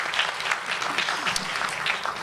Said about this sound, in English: let's give all these folks another round of applause